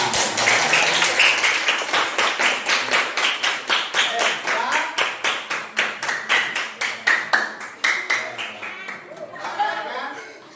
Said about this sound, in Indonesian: Tepuk tangan untuk Sela.